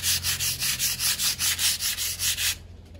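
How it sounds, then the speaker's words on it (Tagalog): Sandpaper rubbed in a single direction across a surface being prepped for repainting, about a dozen even, rhythmic strokes close up, then stopping near the end. "Sa pagliliha, dapat nating tandaan palagi na dapat ay one direction lang yung pagkuskus natin."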